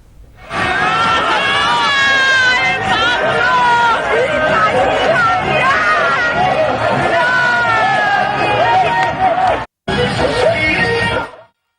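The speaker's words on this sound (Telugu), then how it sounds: "ఈ ఘటనతో తీవ్ర భయాందోళనకు గురైన జనం గట్టిగా అరుస్తూ అక్కడి నుంచి పరుగులు తీశారు" A crowd screams and shouts in panic as people flee after the roof of a house suddenly collapses, a dense, loud, continuous babble of many voices that cuts out briefly near the end.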